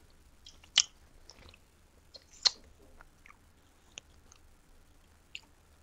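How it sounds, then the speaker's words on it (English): Someone munches coconut cake, with sparse, quiet, close chewing and biting clicks spread across a near-silent background. "People can listen to me munching."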